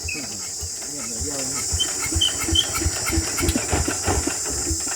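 A freshly rebuilt 150 cc motorcycle engine idles steadily in the background with a low rhythmic thrum, accompanied by a high constant whine and faint chirpy sounds.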